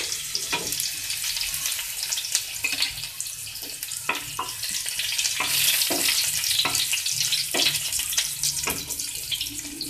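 Steady crackling sizzle of garlic frying in a hot pan on low heat, with occasional soft clinks of stirring, close and continuous.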